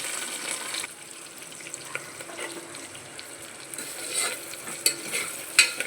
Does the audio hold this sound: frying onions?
yes